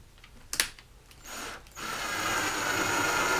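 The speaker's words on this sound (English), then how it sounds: "and drill it in." A few clicks and handling knocks, then a power drill whirs up and runs steadily driving a screw for a D-ring into an artwork frame, its motor pitch rising slightly as it drives in.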